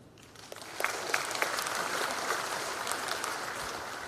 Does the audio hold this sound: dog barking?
no